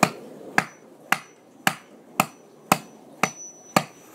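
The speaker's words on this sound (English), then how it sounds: "I'll try the other side with the nail side of the hammer." The nail side of a hammer strikes a very hard object in eight sharp, evenly spaced blows about half a second apart, each a crisp close crack with a short ringing decay, and no talking.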